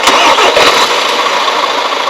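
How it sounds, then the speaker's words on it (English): Engine sound from an RC car that resembles a bus, a steady, loud, rough hiss-laden drone with a few brief pulses near the start. "It's like a bus, that one."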